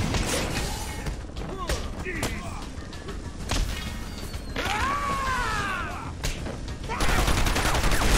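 Enemy gunfire during combat in Batman: Arkham Asylum, with bursts and thumping impacts mixed into dense game sound effects, while a player talks excitedly over the action.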